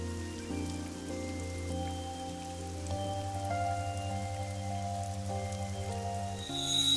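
Rain falls in the video game AI: The Somnium Files, a soft steady patter under sustained musical tones that shift partway through, ending with a brighter hiss.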